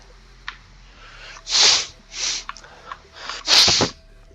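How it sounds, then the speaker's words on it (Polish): A person with a head cold sneezes and sniffles close to the microphone: a small sniff, then two forceful sneezes with breathy bursts between, a brief snort, and a final loud sneeze. "Przepraszam za smarkane, katar mam."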